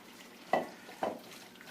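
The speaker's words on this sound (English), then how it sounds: "So I'm going to toss in our shrimp." Shrimp tossed into a pan of pasta and stirred: two soft, close scraping stirs about half a second apart over a faint, quiet sizzle.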